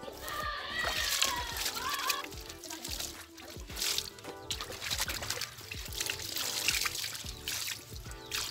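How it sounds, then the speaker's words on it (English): Clothes rinsed by hand in buckets of clean water in a village, with steady sloshing, trickling and pouring close by while children talk and play in the background. "I'll have to rinse my clothes with 3 buckets of clean water."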